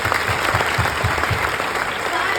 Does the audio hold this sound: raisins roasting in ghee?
no